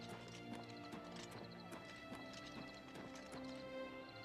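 Horse hooves clip-clopping in the Oblivion Remaster video game, a steady rhythmic patter of hoofbeats under layered game music, with a brief whinny and no talk.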